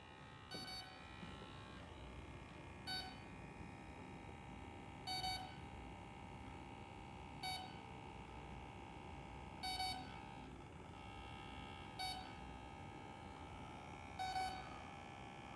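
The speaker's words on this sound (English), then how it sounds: "So the ESC beeps." An RC plane's electronic speed controller, fitted to a Dynam Messerschmitt BF-110 model, gives short electronic beeps about every two seconds, faint over a steady background hum.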